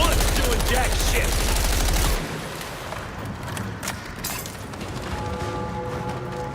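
Rapid automatic gunfire in a video game blasts loudly for about two seconds, then cuts off, leaving quieter mechanical game ambience and a sustained tone.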